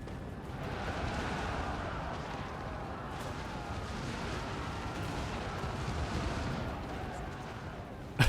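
Artillery fire pounds a fortress wall in the Total War: Warhammer 2 strategy game, heard as a continuous rumbling battle din of blasts and crashes, with a sharper burst at the very end.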